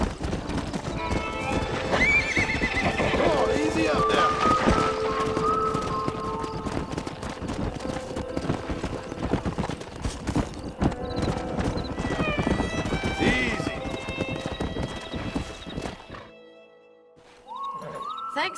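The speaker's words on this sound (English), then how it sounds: "We got some fine horses." Horses in the Red Dead Redemption video game whinny and neigh while hooves clip-clop steadily over a dense, busy game soundscape with voices; near the end the mix drops away briefly before one more neigh.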